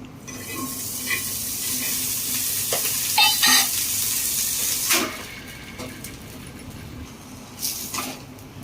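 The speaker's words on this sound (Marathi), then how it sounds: "तवा आपला गरम झालेला आहे थोडंसं तूप टाकते" Ghee hits a hot tawa for paratha and sizzles with a close, steady crackling hiss, with a few sharper spits and bursts along the way; no one speaks.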